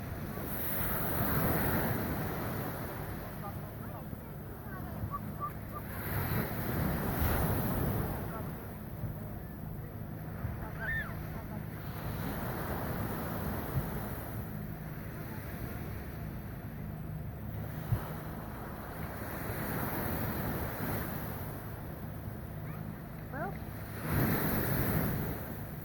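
Sea waves and wind at Arrábida beach: repeated surges of surf rolling in every few seconds over constant wind buffeting the microphone, fairly close, with occasional faint voices.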